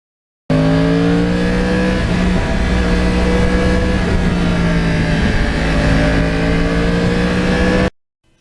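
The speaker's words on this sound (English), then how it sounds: "I just never get sick of listening to the sound of that crossplane engine." A Yamaha R1 with a crossplane engine is ridden on roads in lower New York State and northern New Jersey. Its loud, continuous exhaust note holds a steady tone under wind rush, then cuts off abruptly near the end.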